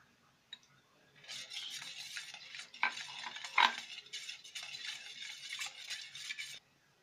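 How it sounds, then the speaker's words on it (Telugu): A spoon stirs a fried tempering mixture into curd (yogurt) for dahi idli, a soft wet scraping and clinking that runs for several seconds, close and fairly quiet. "వేయించి పెట్టుకున్న మిశ్రమాన్ని ఇప్పుడు పెరుగులో కలుపుకోవాలి."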